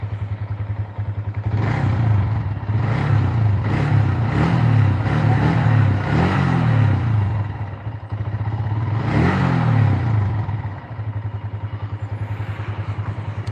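A motorcycle with an upright single-cylinder engine idles and then revs twice in rising surges, a steady low thrum with a faint mechanical clicking beneath it, close by.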